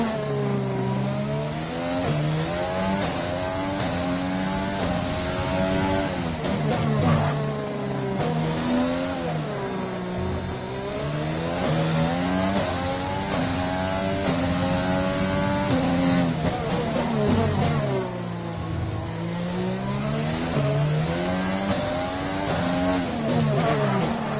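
A Formula 1 race car in a racing video game on the Baku street circuit, its engine worn. The engine screams loud and close, rising and falling in pitch through repeated upshifts and downshifts as the car accelerates and brakes along the track.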